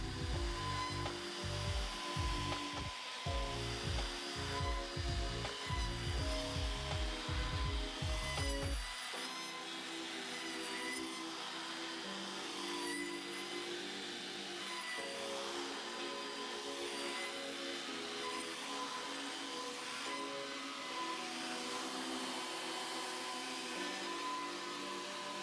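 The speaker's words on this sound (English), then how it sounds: "After each pass, I lower the router slightly." A router riding on a SpeTool Cratos S01001 sled flattens a wood slab, whining steadily throughout while the first several seconds bring loud, rhythmic low chattering cuts as it bites across the wood in back-and-forth passes.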